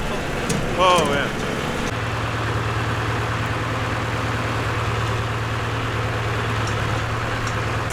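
A 50-year-old John Deere tractor engine runs with a steady, loud low drone and constant throbbing rumble close by, after a brief burst of other noise at the start.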